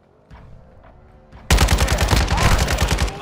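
Gunfire in Call of Duty Modern Warfare 2 Ground War: a few faint shots at first, then a loud, rapid automatic burst that keeps hammering close by until the end.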